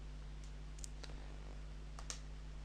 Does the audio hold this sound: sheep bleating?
no